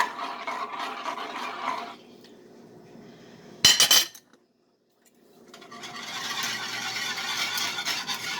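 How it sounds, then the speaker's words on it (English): A spoon or whisk scrapes and clinks against a pot while creamy macaroni and cheese sauce is stirred, a brief bright metallic clatter between longer stretches of soft, close stirring, with no talk. "you have to stir this constantly when you've got it on high"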